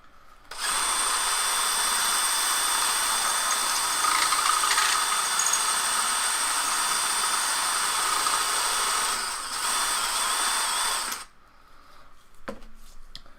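A power drill bores holes through a 3D-printed helmet, a steady high whine running for about ten seconds before stopping abruptly, followed by faint handling clatter.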